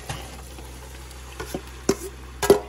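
Beans are added to a pan of cooked tomato, onion and chiles and stirred, giving a few soft scrapes and spoon taps over a faint sizzle, with no talking.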